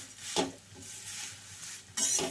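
Thin poha flakes frying in hot oil for chivda, a steady soft sizzle with occasional stirring scrapes and a louder burst of crackle near the end, no voices.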